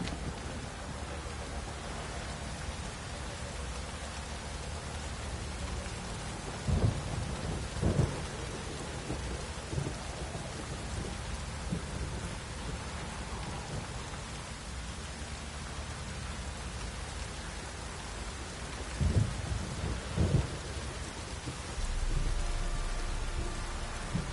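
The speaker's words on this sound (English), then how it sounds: "The storm, damn it." Steady heavy rain pours down while low thunder rumbles roll in a few times, a storm in the video game The Witcher 3: Wild Hunt.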